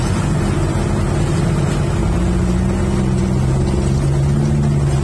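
A fishing boat engine drones loudly and steadily up close, a constant low rumble with a humming tone and no voices.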